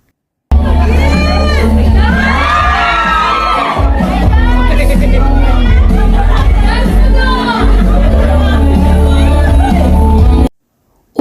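A dense crowd of fans screams and cheers at full volume for Paolo Avelino, with shrill shouts rising and falling over a constant roar for about ten seconds before the sound cuts off abruptly.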